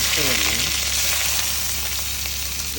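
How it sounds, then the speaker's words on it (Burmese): Tom yum fried rice frying in a pan, a loud, steady close-up sizzle with occasional stirring scrapes, while a voice speaks briefly near the start. "ဒီလိုလေးကြော်ပြပါမယ်"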